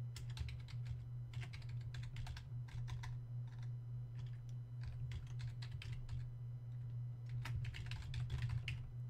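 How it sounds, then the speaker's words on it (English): Someone types an email address on a computer keyboard, giving quick bursts of light key clicks with short pauses between words over a faint steady hum, with no speech. "I'll actually go ahead and type that in just so you can see it."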